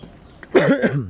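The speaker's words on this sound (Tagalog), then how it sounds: "Inuubo ako" One short, harsh cough up close, a quick double burst that fades into a throaty rasp.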